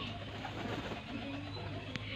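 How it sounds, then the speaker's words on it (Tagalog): Pigeons flying about and cooing in a rural farm setting, soft low coos under steady outdoor background noise, faint and somewhat distant. "Kasi yung mga kalapati, oh, maglipadan."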